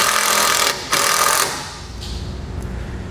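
Power driver sinking a screw to mount a trailer breakaway switch, a loud buzzing whir that stutters briefly, runs on, then stops and leaves low background noise, no talk.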